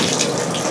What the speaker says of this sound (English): You take your sprayer, if you have one,